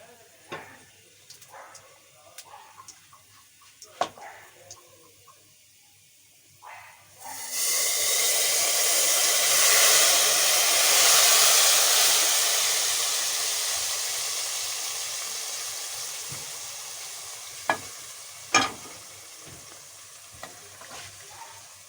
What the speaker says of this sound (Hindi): इसमें हम ये तड़का लगाएंगे